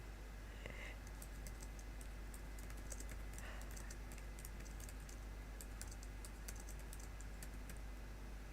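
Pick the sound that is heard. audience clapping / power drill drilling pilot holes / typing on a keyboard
typing on a keyboard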